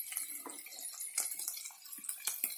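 Water poured into a cooking pot at an outdoor night cookout, splashing and gurgling unevenly for a couple of seconds at close range.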